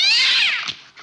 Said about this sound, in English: You may have heard this stereotypical cat scream on TV.